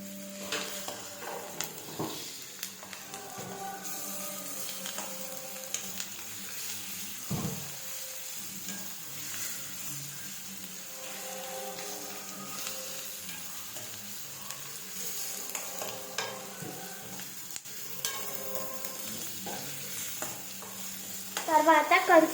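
Ginger garlic paste frying in a pan gives off a soft, steady sizzle, while a spoon occasionally clinks and scrapes against the pan as it is stirred, close and quiet, with a brief louder clatter at the end.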